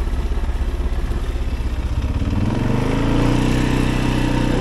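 An Arctic Cat 700 engine idles close by with a rhythmic, chugging pulse and mechanical clatter, its note deepening and roughening slightly toward the end.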